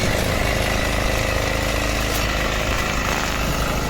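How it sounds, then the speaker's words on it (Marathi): A steady, loud tractor engine drone runs throughout, a low mechanical rumble from a tractor working a Konkan rice field during paddy transplanting, with no pauses or talk. "ट्रॅक्टरच्या आवाजामुळे आपला आवाज थोडा कमी होतो"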